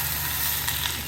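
Hot oil poured onto momo filling sends up a brief, steady hiss of sizzling, close and even throughout, with no talking.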